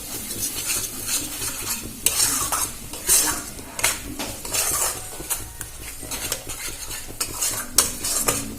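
A cashew, tomato and green chilli paste is stirred and fried in a pan for a Bengali rui fish kalia, with steady sizzling under repeated scraping and clinking of a spoon against the pan, close and continuous, no talk.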